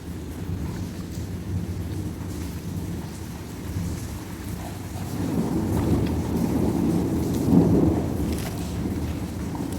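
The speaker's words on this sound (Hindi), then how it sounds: "कितनी ख़तरनाक आवाज़ थी बादलों के गरजने की, और इतनी कोई तेज़ बारिश हो रही थी" Heavy rain pours steadily while deep thunder rumbles and swells midway, rolling on for several seconds in a loud, continuous storm.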